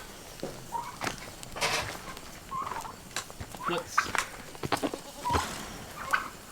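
Several turkeys gobble in bursts at a moderate distance amid outdoor rustle and scattered clucks; a voice briefly speaks near the end.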